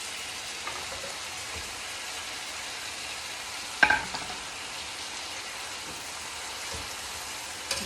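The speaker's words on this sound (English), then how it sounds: "basically we're going to stir fry this" Asparagus and apples stir-frying in olive oil in a large flat-bottom wok, a steady soft sizzle throughout with one sharp utensil clank near the middle.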